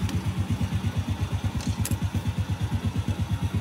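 A Honda Wave Alpha 110 motorcycle with a black engine and a weak battery idles close by after being kick-started, its single-cylinder engine chugging in a quick, steady, even rhythm.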